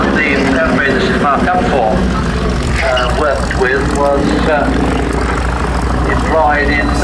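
A propeller warbird flying past at an air show at West Malling, its engine drone loud and continuous beneath steady commentary over a public address.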